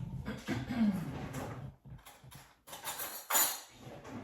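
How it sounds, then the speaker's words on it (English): Quiet kitchen handling of cutlery while fetching a spoon during preparation of shrimp and andouille stuffed mirliton, with soft scrapes and knocks and one brighter metallic clink near the end. "I'm gonna get another spoon."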